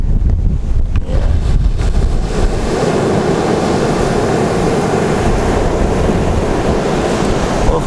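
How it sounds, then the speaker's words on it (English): Surf rolls steadily onto a Pacific Ocean shore, a continuous broadband wash of breaking waves with wind buffeting the microphone, loud and close throughout, no voices. "Pacific Ocean."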